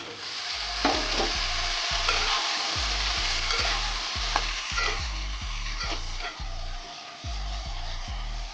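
Potatoes for a rohu fish curry frying in a pan, a loud continuous sizzle with a low rhythmic knocking and scraping of stirring repeating throughout, close up and with no talk.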